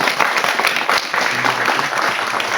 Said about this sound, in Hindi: इनके लिए थोड़ी सी तालियां।